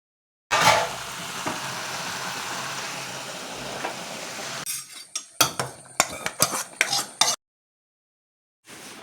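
Chopped tomatoes and green chillies sizzle in a pan for several seconds, then a burst of scraping, clattering stirring follows before the cooking goes quiet, close and fairly loud with no talking.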